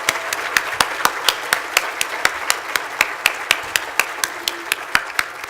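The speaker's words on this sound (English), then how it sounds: "We have a round of applause" One person's claps ring out at a graduation ceremony, a steady run of about two dozen crisp, evenly spaced claps that stand alone and fairly loud, with no wider crowd applause audible.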